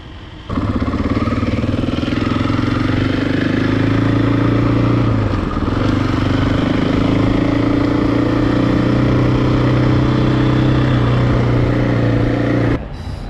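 A 2020 Husqvarna FE501S dual sport motorcycle cruises on the freeway, its engine droning steadily and loudly with a rising pitch and constant wind rush for most of the ride.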